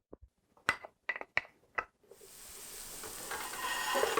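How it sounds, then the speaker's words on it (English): Onions and chili pepper hit hot olive oil in a pan: a few clinks and stirring knocks first, then a steady sizzle that builds and continues alone. "So we want to saute the onions over the medium heat for about 10 minutes"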